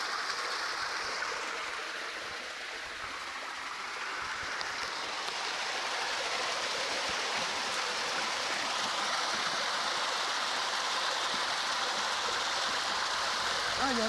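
Water flowing in a drainage canal at Cannolo, a steady broadband rush with a continuous, even texture and no clear pauses, fairly close and constant throughout.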